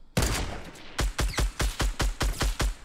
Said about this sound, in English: Oh, sniper shooting at me as well.